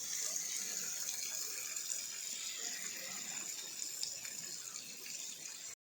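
Water hisses steadily as it is poured onto garden plants, a faint continuous splash with no voices.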